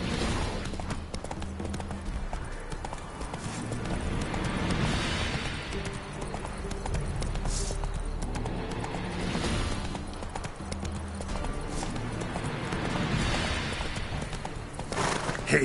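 Roach, Geralt's horse in The Witcher 3: Wild Hunt, galloping at speed: continuous rhythmic hoofbeats across a long stretch, loud and close, layered over game ambience and music.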